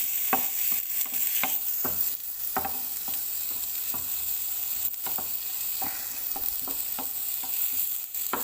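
Red capsicum sizzles steadily in a frying pan, with repeated stirring scrapes every second or so over a constant, close hiss.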